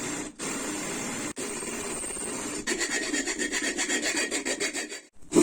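Drilling an 8 mm hole into an empty gas cylinder with a Belmash drill, a steady grinding whine that turns into rapid rhythmic chattering pulses near the end, close and fairly loud.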